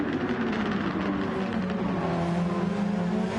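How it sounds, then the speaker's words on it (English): A Super Formula Honda race car in Gran Turismo 7, on Croatia's Dragon Trail Seaside, holds a steady loud engine drone with changing tones as it downshifts through gears. "You can hear the gearbox box full of neutrals as he changes down for the Modric corner."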